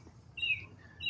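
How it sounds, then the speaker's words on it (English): Two clear, high bird chirps ring out outdoors, spaced a little under a second apart, over a faint low background hum. "that's the lawnmowers and the birds chirping"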